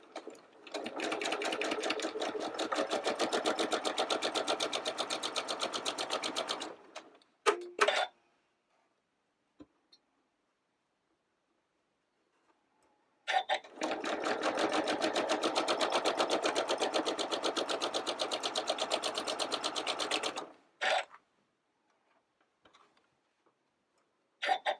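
A sewing machine stitches Hopscotch quilt block seams in two long, steady bursts of rapid ticking, separated by a quiet pause with a few small clicks and handling noises.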